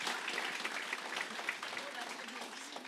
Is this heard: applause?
yes